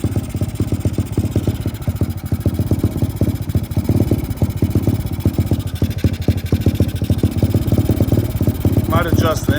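An XMoto 125cc pit bike engine runs with the choke off, idling roughly with a loud, close, rapid uneven putter and stumbling beats, plus brief talk near the end.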